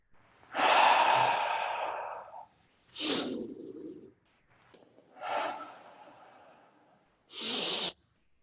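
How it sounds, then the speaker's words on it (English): Slow, deep breaths from a guided meditation come close and clear: four long inhales and exhales with short pauses between them, and no talking over them. "just take a few deep breaths with me, full breaths"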